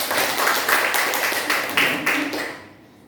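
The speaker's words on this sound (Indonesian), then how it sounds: "Tepuk tangan untuk kita semua" Scattered applause from a small group of teachers at an afternoon school meeting, a few seconds of quick claps fading out toward the end.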